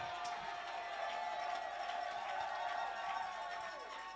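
A church congregation at a prayer day cheers and acclaims together, a sustained crowd roar with scattered shouts and a steady tonal drone underneath, fairly distant and continuous.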